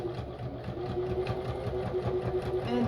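A sewing machine stitches through junk journal pages, a steady close mechanical whirr with a rapid rhythmic needle chatter running throughout.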